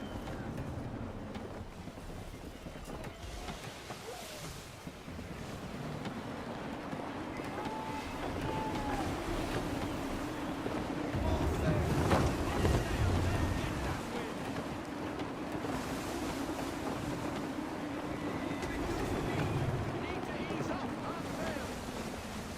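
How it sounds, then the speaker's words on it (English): Gusty wind rushes steadily over the open sea while a sailing ship moves through water in the Assassin's Creed 3 Remastered video game, a broad airy roar with swells and splashing waves, occasional game sounds layered on top. "Wind looks to be shifting. Stay alert, Connor. Gusty winds can be difficult to manage."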